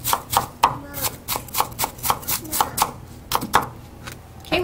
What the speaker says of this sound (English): we've chopped up the shallot